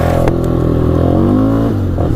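A 2004 Polaris Scrambler 500 HO 4x4 ATV engine revs loudly and close up in two-wheel drive, its pitch rising then falling through a throaty, buzzing drone.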